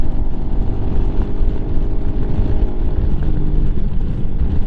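Steady drone of a Lifan KPM 200 motorcycle engine at highway speed on the interstate, with wind rush filling the low end; loud and continuous throughout, no talking.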